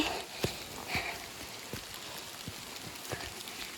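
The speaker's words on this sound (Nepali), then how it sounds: "अब चाहिँ पानी पर्नु थाल्यो।" Rain falling as a steady, quiet hiss, with scattered drops tapping nearby, on a mountain trek near Darjeeling.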